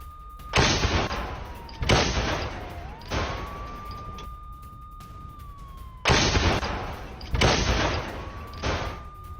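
Tank shelling during the war in Ukraine, fired at Russian positions: about five loud, sharp blasts that each trail into a rumbling decay, with a thin siren-like tone wavering between the impacts.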